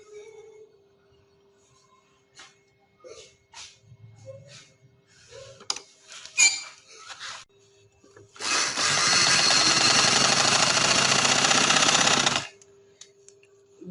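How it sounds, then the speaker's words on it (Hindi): Close, loud and steady whirr of a sewing machine stitching a winter frock, running unbroken for about four seconds after scattered handling clicks and taps of fabric. "और अब मैं ये सिलाई लगाऊंगी।"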